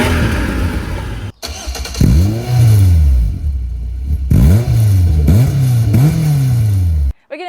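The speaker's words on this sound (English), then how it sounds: "And time for a quick rev check." A Caterham 360S with a 2-litre Ford Duratec engine idles, then revs several times in sharp, loud blips that rise and fall back, close by, with no talking.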